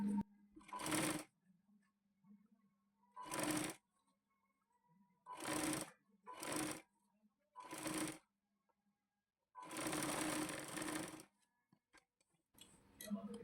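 A sewing machine stitches a blouse seam in six separate bursts of varying length, the longest near the end, with quiet pauses between them and a faint low hum under the gaps.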